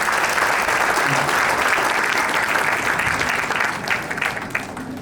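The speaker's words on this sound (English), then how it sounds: "Let's have a clap for him." An audience applauding a participant at an investor education workshop, dense sustained clapping from a crowd that thins out toward the end, with a few murmured voices underneath.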